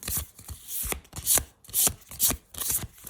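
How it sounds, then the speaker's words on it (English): A deck of cards being shuffled by hand in a series of quick riffling bursts, close and crisp, with short pauses between passes. "So I'll shuffle up my deck"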